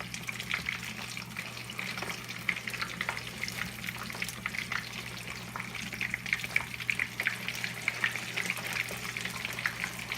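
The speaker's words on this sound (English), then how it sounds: "you want to make sure that you flip them over at least once, just so they could have their little pre-fry" Plantain slices frying in oil for Haitian fried plantains, a steady close crackling sizzle with fine spitting pops throughout, alone with no talk.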